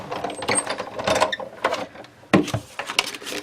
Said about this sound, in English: Then just run it through the die cut machine.